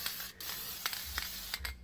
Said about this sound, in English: We're gonna spray all in here because you're not gonna be able to access it later on.